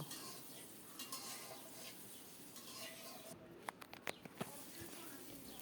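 Boiled, salted potatoes fry in hot mustard oil while being stirred, a steady soft sizzle running throughout with a few sharp scraping clicks near the end.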